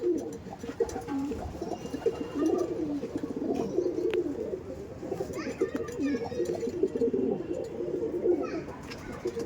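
Ablak and Kalanka pigeons coo in soft repeated low rolling calls, near and steady, while someone talks over them and children's voices sound faintly in the background.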